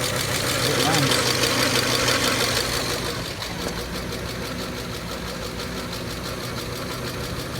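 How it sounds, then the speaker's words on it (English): A Volvo 850 T-5R engine running on a MegaSquirt 3 Pro plug-and-play setup idles close by with a steady, even rumble. It is louder at first, then settles to a constant lower idle. "Mega Squirt 3 Pro plug and play start. Don't need to tune it. Idle for a little while."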